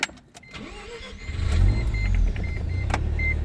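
A 1989 Mazda RX7 Turbo II cranks and starts, then settles into a steady, close idle after a brief whine.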